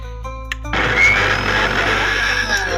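A large electric blender whirs into action on watermelon chunks, water and beet salt, starting abruptly after a low hum and running loudly and steadily to the end.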